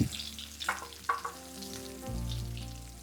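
Potatoes are lowered into a tray of hot rosemary and garlic infused goose fat, with a few sharp clatters and splashes before a steady sizzle swells and settles, accompanied by faint background music.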